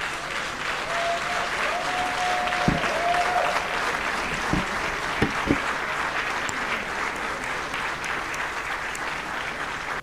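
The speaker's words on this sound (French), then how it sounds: "vous inviter à vous lever pour applaudir debout notre frère Siméon Konan Kouadio" Standing ovation for Siméon Konan Kouadio at an African conference session, sustained loud applause from a large hall audience filling the whole stretch, with a few louder claps and knocks standing out.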